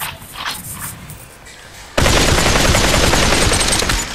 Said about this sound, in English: this is my favorite assault rifle